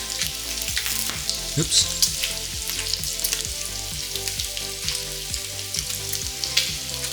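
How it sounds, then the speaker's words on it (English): Pancakes sizzle steadily on a Ninja Sizzle griddle, a constant close frying hiss that runs throughout, with a brief spoken exclamation partway through. "Yeah, that's looking pretty good. Flip these pancakes."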